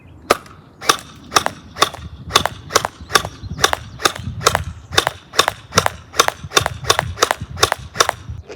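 A Nerf blaster fires on semi-automatic, about sixteen sharp snapping shots at a steady pace of roughly two per second, close and crisp over a low background rumble.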